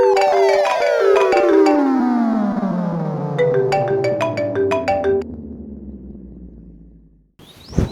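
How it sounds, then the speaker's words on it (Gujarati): A mobile phone rings with a bright melodic ringtone, a run of chiming notes that gradually fall and fade out, loud and close, alone with no talking. "ફોન આવતો તો ઉપાડી લો ને"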